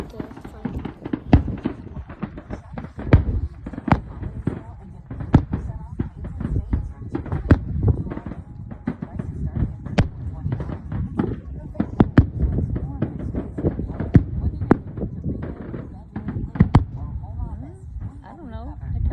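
A Fourth of July fireworks show brings a dense, continuous stream of pops, crackles and thuds, loud and fairly near, with people talking throughout.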